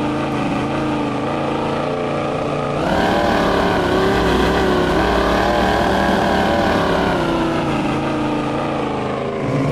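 A heavy truck engine idling in the off-road driving game SpinTires, a loud, continuous, rumbling drone that steps up a little in pitch and strength after about three seconds, then holds steady, with no talk.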